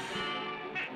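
A cartoon duck from the 1933 Merrie Melodies short "One Step Ahead of My Shadow" quacks in a brief, loud, nasal burst over a dense music and soundtrack bed.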